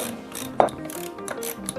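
A wrench works the coupler bolts on a garage door torsion spring, giving a few faint metallic ratcheting clicks close by against a quiet background.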